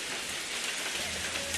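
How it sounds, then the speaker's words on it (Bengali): Rain falling in a cartoon, a dense steady patter of drops on surfaces, even and continuous throughout the short stretch. "তার উপর যা বৃষ্টি শুরু হয়েছে।"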